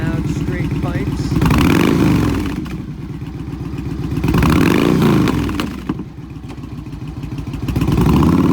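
A 2010 Yamaha Stratoliner DLX, a 1900cc V-twin cruiser fitted with loud straight pipes, revs in two or three rising-and-falling surges over a steady throbbing idle, close and loud throughout.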